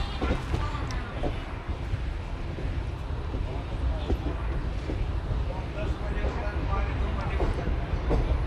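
The Vindhyachal Express 11274, bound for Varanasi City, rolls through a station as a steady, heavy low rumble of wheels and carriages that stays constant from start to finish.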